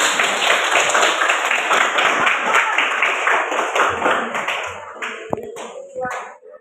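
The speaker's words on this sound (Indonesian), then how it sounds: "Tepuk tangan untuk kalian semua." Children at an elementary school clap their hands together in a classroom, a loud dense burst of clapping that tapers off toward the end, followed by a few scattered taps and shuffles.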